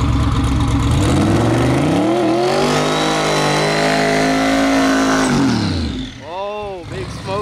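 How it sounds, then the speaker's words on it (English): A drag car with a Turbo400 lockup racing transmission does a loud, sustained burnout, its engine screaming at high revs for several seconds before dropping off, followed by a brief rising-and-falling whine. "Burnout."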